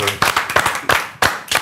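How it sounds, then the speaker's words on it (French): An audience claps at a karate event after a 7th Dan karateka is introduced; a few loose, uneven bursts of hand claps sound close and fairly loud over about a second and a half. "On l'applaudit."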